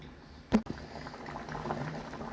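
Coconut curry bubbling at a gentle boil in a pot, a soft, steady simmer heard close up, with one brief knock near the start.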